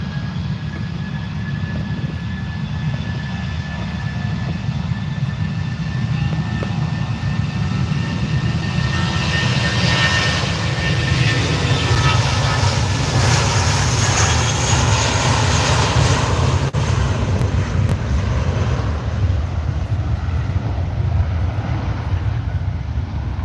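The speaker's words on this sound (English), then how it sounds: "We are just awaiting the start off roll here for Aegean's Retro. There we go, and it's off." An Aegean Airlines jet airliner in retro livery rolls for takeoff at Manchester Airport, its engines building into a loud, sustained roar that swells at the peak and then holds steady, with no talk over it.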